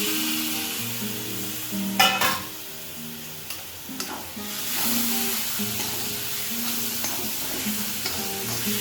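Tomatoes go into a hot pan and fry, starting with a brief clatter as they drop in and settling into a steady sizzle with occasional stirring scrapes, over faint background music-like tones.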